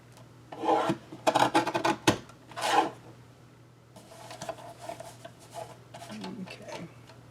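Paper for a handmade card is trimmed with a rasping, rubbing slide of a paper trimmer in a few short strokes, close and fairly quiet, then lighter scraping follows.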